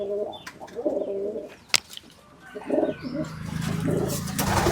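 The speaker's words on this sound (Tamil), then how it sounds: "இது எல்லாமே நம்மளோட புறா தான்" Pigeons in a backyard pigeon cage with newly hatched chicks coo repeatedly in low, throaty bursts, mixed with occasional chirps and a sharp click, amid busy close background noise.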